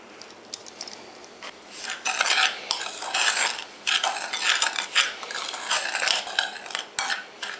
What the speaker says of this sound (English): What I do advise you to do is mix the cocoa with the sugar first